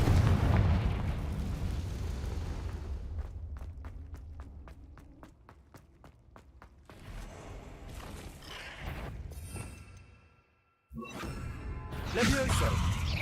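In the Hogwarts Legacy game, a Confringo fire spell goes off with booming blasts and bursts. A run of sharp rhythmic hits follows, then a short silence and another loud eruption near the end.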